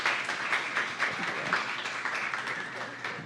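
An audience applauds a presenter at a community sharing event, steady crowd clapping throughout, with talk mixed in underneath.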